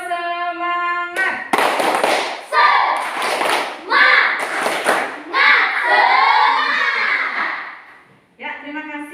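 Schoolchildren in a classroom do a rhythmic clapping chant, the tepuk semangat, with sharp bursts of hand claps mixed with their chanting voices, framed by brief musical tones at the start and end.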